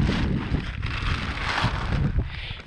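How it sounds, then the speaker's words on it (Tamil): Strong wind gusts roar across a tent campsite near Chennai, buffeting the microphone with a dense, continuous rush that rises and falls slightly. No one speaks. "காற்று வேறு பயங்கரமாக அடிக்குது"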